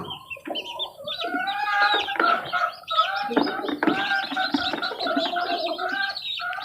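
A newly hatched chick peeps in rapid, high, repeated chirps that carry on without pause, close and loud with no talk.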